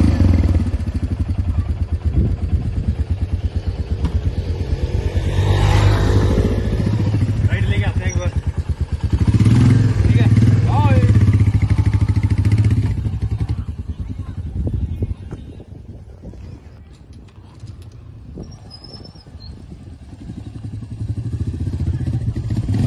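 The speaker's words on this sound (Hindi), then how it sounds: "We are riding this bike, Royal Enfield." A Royal Enfield motorcycle rides on a Sunday road trip, its engine a steady low thumping rumble with wind noise, loud and close, easing off toward the end, while people talk over it.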